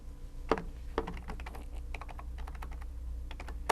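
Soft, fairly quiet typing on a computer keyboard during accounting data entry, a steady patter of keystrokes with a few firmer taps, heard alone.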